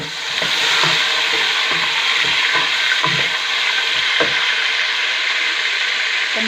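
Tomatoes go into crackling cumin in a hot pan, raising a loud, dense sizzle with scraping stir sounds over the top, and no one speaks.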